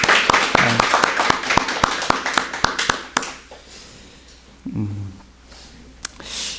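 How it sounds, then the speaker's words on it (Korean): A church congregation gives welcoming applause, a short round of distinct hand claps and taps that thins out after a few seconds, followed by someone speaking briefly amid a quiet room. "우리 환영의 박수 한번 드릴까요?"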